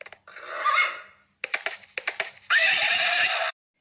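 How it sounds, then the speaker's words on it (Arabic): A horse gives a shrill whinny, then a quick burst of hoofbeats, then a long, bright second neigh, all loud and isolated against silence. "ها هو الحصان القوي قد جاء راكضا"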